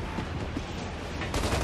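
Rapid bursts of gunfire from an online multiplayer shooter game, dense and continuous at low volume with a sharper burst near the end, no speech over it.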